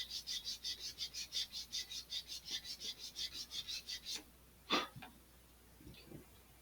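A sanding block rubbed over an Estes Black Brant XII model rocket part gives a brisk series of about seventeen even rasping back-and-forth strokes, close and clear, followed by a pause with a few scattered faint scrapes.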